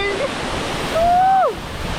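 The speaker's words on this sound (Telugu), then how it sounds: "అలాగే వచ్చేసాం మనం వాటర్ ఫాల్" Bogatha waterfall, a weekend getaway spot near Hyderabad, gives a steady rushing roar of falling water throughout, with a brief high whistling tone rising over it near the middle.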